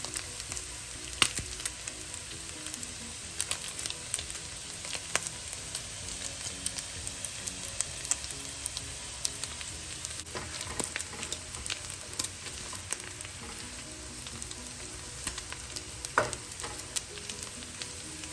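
Bacon frying in a generous amount of oil in a wok for bacon and egg fried rice, a steady crackling sizzle with scattered pops throughout and no talk.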